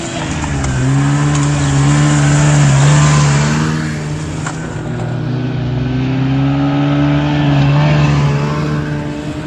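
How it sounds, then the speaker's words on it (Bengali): A car approaches from a distance on a snowy mountain road at Sonamarg, Kashmir, its engine hum rising and swelling loudly as it nears, with a steady droning tone throughout. "ওই দূরে গাড়ি আসছে এইদিকে।"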